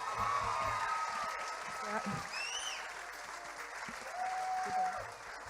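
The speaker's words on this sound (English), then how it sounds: "Let's give these Taiwanese ambassadors another round of applause." An audience at a Taiwan cultural night claps under a lively room, with a few whistles and whoops rising above the applause and some voices in the background.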